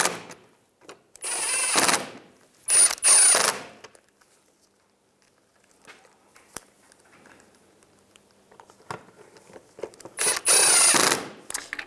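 A power screwdriver tightens bumper screws on a 2010-2017 Chevrolet Equinox in loud buzzing bursts, two early and one near the end, separated by quiet handling and small clicks.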